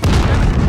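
A frag grenade detonating in a multiplayer shooter game, a very loud, close, dense boom that fills the whole short moment with heavy low rumble.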